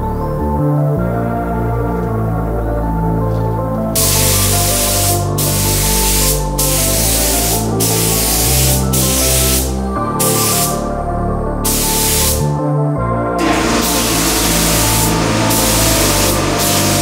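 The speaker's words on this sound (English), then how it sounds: "So now I'm just gonna get straight clear and do one more coat on top of that" Close, loud hiss of a spray can laying clear coat over tinted car tail lights, delivered in several long continuous bursts separated by short pauses.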